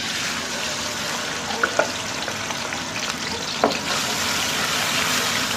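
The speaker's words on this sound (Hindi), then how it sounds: "जब घी अच्छे से गरम हो जाए तो इसमें पिसी हुई प्याज हम शामिल कर दें।" Ground onion paste frying in hot ghee for aloo matar, a steady broadband sizzle filling the whole stretch, with a few soft spoon scrapes and clicks rising briefly above it; no voices.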